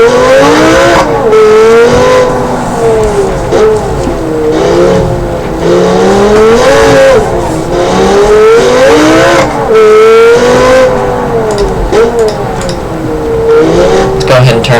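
A supercar engine in the BeamNG.drive driving game roars loud and steady, rising and falling in pitch as it revs and shifts, with a brief tire squeal, alone without talk.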